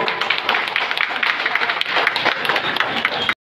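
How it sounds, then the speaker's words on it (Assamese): An audience claps steadily through a felicitation ceremony, a dense, close burst of applause that runs for about three seconds before cutting off abruptly. "এতিয়া হাত চাপৰি দিব।"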